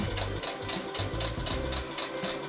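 Sewing machine stitching through patchwork fabric and batting, a quick steady run of needle strokes that stays close and fairly loud, with a brief dip midway and no talking.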